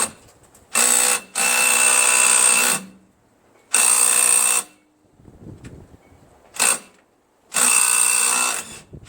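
Impact or power tool with a 5/8 socket spinning off the pulley on a Craftsman LT1000 lawn tractor with a Briggs opposed-twin 19.5 hp engine, tipped on its side; four loud whirring bursts of one to two seconds, separated by quiet pauses.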